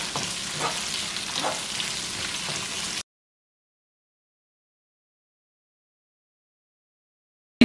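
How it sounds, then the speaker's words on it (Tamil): Onion, green chillies and curry leaves sauté in a pan for rava upma, crackling and sizzling steadily with soft stirring scrapes for about three seconds before the sound cuts abruptly to silence. "போட்டு இதை நல்லா மிக்ஸ் பண்ணி வதங்க விடுவோம்."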